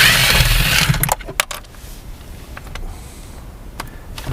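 Plastic console trim on a 2017 Toyota Tundra is pried loose, a rough scraping burst followed by a few sharp clicks and snaps, close and fairly loud, then quiet with scattered small taps.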